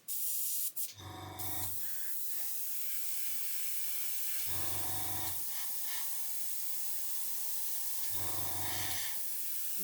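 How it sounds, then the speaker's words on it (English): Airbrush being cleared out after spraying white Tamiya paint on a model kit, giving three short, loud bursts of hissing air and paint separated by pauses, over a steady background hiss. "I'm just going to give the airbrush a clear out."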